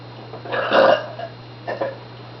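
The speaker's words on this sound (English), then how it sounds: "So I burp like a dude when I want to." A woman lets out a deliberate, guttural burp after drinking Diet Coke; one loud, drawn-out belch is followed by a shorter, weaker one, close to the mic with no talking.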